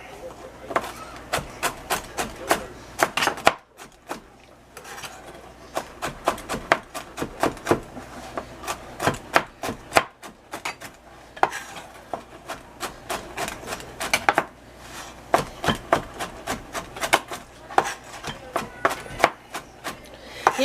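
Pieces of a homemade apple pie crisp with a walnut and pecan crust being cut, close up: quick runs of sharp knife taps and scrapes in uneven bursts, with a short pause near the start.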